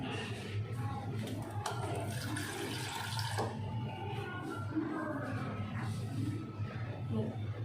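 Water splashes steadily into snack batter in a home kitchen, a continuous, fairly loud pouring and sloshing with a voice faintly under it.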